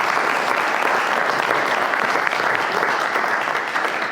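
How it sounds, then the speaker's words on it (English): An audience at a hospitality leadership event applauds steadily, a dense, even wash of clapping that holds at full strength for several seconds and only begins to ease at the very end. "Can we just give a round of applause for Sophie-Anne and his team,"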